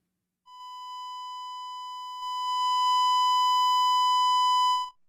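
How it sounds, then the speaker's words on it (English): A steady sine test tone run through an SIEQ analog-modeled EQ plugin, beginning clean and then stepping up louder into clipped, gritty saturation for about four seconds before cutting off. "Now we are, of course, clipping this SIEQ."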